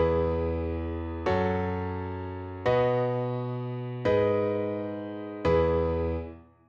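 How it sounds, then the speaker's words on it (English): A simple, conventional chord progression generated in FL Studio plays as four sustained synth chords, each struck cleanly about every 1.4 seconds and decaying before the next, fading out at the end with no voices. "So right now I'm dragging it all the way towards conventional, so this should give you a nice simple chord progression"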